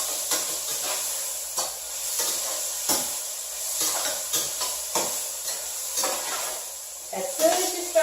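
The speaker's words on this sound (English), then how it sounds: "then you stir the rest of your vegetables in." Vegetables being stirred into a hot pan with slightly caramelizing onions, giving a steady sizzle and hiss under repeated scraping strokes of a utensil, close and moderately loud.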